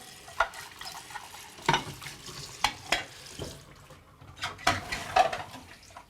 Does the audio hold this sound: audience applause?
no